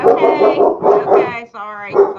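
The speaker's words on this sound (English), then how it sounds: "I've got dogs barking in the background" Several dogs bark in a loud, close run of sharp repeated barks and yips, with a short pause before a final bark, mixed with voices talking during an indoor live jewelry sale.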